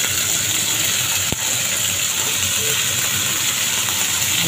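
Crabs fry in hot oil with crushed garlic, giving a loud, steady, close hiss and sizzle throughout, broken once by a single sharp click.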